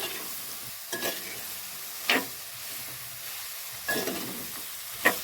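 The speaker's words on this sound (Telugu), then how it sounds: "కిలో బీరకాయలు వేస్తున్నాను. కలిపేసుకొని దీన్ని ఒక 2 నిమిషాలు మంచిగా మగ్గనిద్దాం." Ridge gourd pieces are stirred as they cook in a pan under a constant soft sizzle, with four distinct scraping strokes spaced about a second apart.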